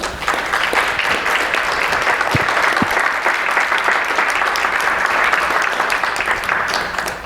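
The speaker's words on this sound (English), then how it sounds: "Can we give him a big round of applause, please?" Sustained, even applause from a seated audience at a business strategy seminar, a steady wash of many hands clapping at close range for several seconds with no talking over it.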